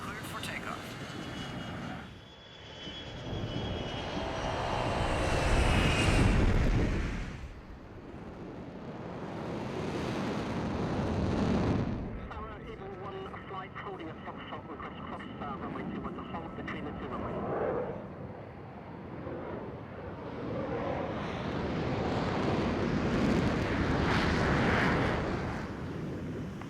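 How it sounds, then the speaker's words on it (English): A fighter jet takes off at Nellis with a loud, sustained engine roar that rises and falls over time. Radio chatter and voices are heard over it throughout. "Vance on Nellis Tower, you're cleared for takeoff"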